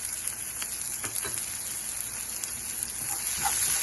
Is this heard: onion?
yes